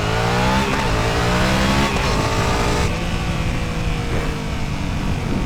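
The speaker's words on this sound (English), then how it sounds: "Let's hear the bike for a second." A motorcycle engine runs steadily and loudly close by, a continuous droning rumble with slight pitch shifts as it revs, no voices over it.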